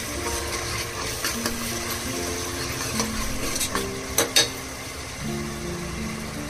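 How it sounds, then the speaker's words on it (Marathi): Masala paste with curd being roasted and stirred in a pan, a steady low sizzle with scraping spoon strokes and a few sharp clinks against the metal. "मसाला आपला चांगला पहिला भाजून घ्यायचा."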